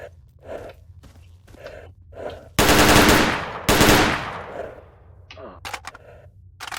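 Gunfire in the S.T.A.L.K.E.R. Call of Chernobyl game: two loud close bursts of shots in quick succession mid-clip, standing out against quieter background sounds and faint breathing-like noises before and after.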